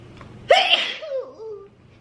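A single sharp, loud sneeze bursts out close by, followed by a brief trailing vocal sound as it fades.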